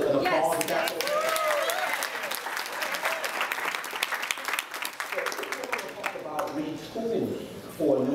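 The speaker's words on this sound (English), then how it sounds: "Can I get just an applause?" Sustained applause from a conference audience at a Texas MBE business gathering, a dense steady clatter of many hands lasting several seconds, with voices and cheers mixed in near the end.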